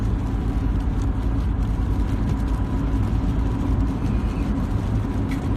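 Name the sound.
car driving, heard from inside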